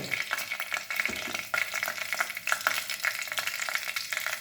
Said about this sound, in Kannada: ಒಗ್ಗರಣೆಗೆ ಎರಡು ಸ್ಪೂನ್ ಎಣ್ಣೆ ಹಾಕಿದ್ದೀನಿ ಎರಡು ಟೇಬಲ್ ಸ್ಪೂನ್ ಎಣ್ಣೆ ಹಾಕಿದ್ದೀನಿ ಕಾದ್ಮೇಲೆ ಸ್ವಲ್ಪ ಸಾಸಿವೆ